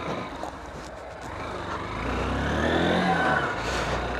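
A Honda SP 160 ABS motorcycle with freshly changed engine oil pulls away, its engine note rising and swelling in a steady drone, then easing as it rides off.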